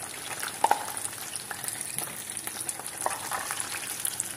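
Pakoras crackle and sizzle steadily as they fry in hot oil, a close, dense hiss with a few sharp pops and occasional stirring clinks, no voices.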